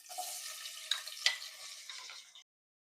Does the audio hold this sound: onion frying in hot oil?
yes